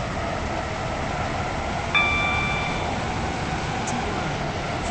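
A Class 717 train in the Stepford Connect video game pulls into Berriley station. A steady, even rumble runs throughout, with a brief electronic chime tone near the middle.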